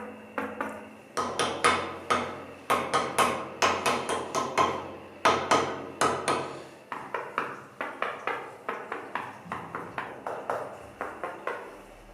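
Sharp, ringing taps on hardened quick-setting mortar filling wall chases during a bathroom renovation, struck in quick bursts of several knocks with short pauses, loud and close with no talking.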